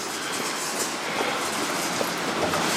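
A train rolls into Lauterbrunnen station in the Swiss Alps, a steady broadband rushing and rattling of wheels and carriages at moderate volume, with no voices.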